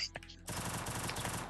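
Gunfire in the mobile battle game Free Fire, a few sparse shots at first and then a dense, continuous burst of rapid automatic fire, fairly faint overall.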